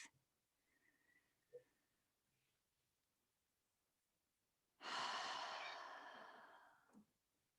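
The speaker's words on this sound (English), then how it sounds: "I'm going to have you just take one more deep breath." One long, deep breath drawn and released near the microphone, a soft sigh-like exhale swelling loudly then tapering off after a few faint earlier breaths, no talking.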